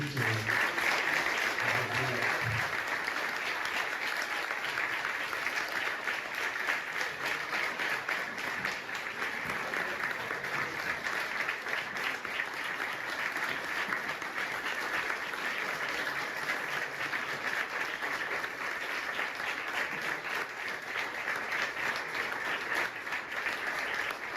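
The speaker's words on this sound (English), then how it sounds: "So can we give a round of applause, please?" Continuous audience applause from a community gathering, sustained and fairly even in loudness, with faint voices mixed in underneath.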